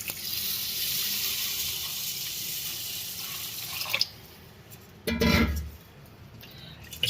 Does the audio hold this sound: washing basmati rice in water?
yes